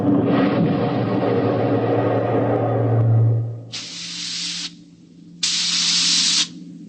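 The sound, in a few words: bursts of steam through steering tubes of a spaceship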